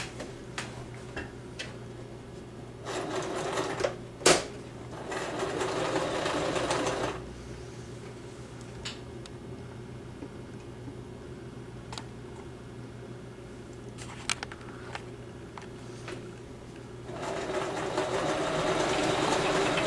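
A sewing machine stitches fabric for a puppet head, running in several bursts of a few seconds each with a fast mechanical whir and ticking, separated by quieter pauses with small handling clicks.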